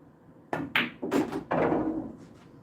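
In a pool game, a cue strikes the cue ball and the billiard balls knock together, giving several close, hard clacks in quick succession and then a rolling rumble that fades.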